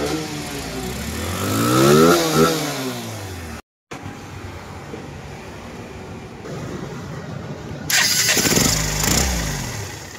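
A stock motorcycle engine turns over and fires up, then rises and falls through revs. After a brief gap it settles into a running idle before revving loudly again near the end.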